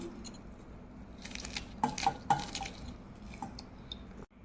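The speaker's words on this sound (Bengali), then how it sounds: "লেবু রসটা একদম চিপে চিপে" Lemon juice squeezed by hand into a yogurt lassi in a kitchen, with a few quick drips and small liquid splashes over a soft, steady background hiss.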